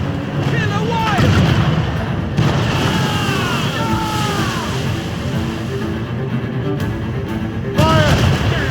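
Ship cannons firing in the naval battle game Assassin's Creed Rogue: several deep booms at irregular intervals, with a heavy one near the end, under shouted commands and a loud, steady battle din.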